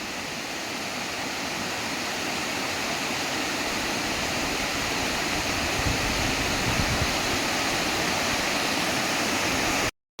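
Meen Muttippara waterfall at Mallappally in Pathanamthitta district, Kerala, roars as a constant, loud, full-bodied rush of falling water with no breaks or voices.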